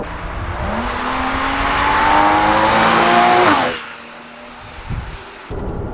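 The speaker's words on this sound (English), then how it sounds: "This is one of the best sounding engines ever made." A 981 Porsche Boxster's six-cylinder engine revs up loudly, its pitch climbing for a few seconds before cutting off sharply, followed by a couple of brief blips.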